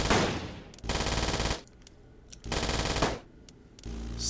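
Aircraft machine guns fire from a Stinger plane in the SteamBirds: Survival game. Two long, rapid, loud bursts of rattling gunfire are split by a short lull, and a third burst starts at the end.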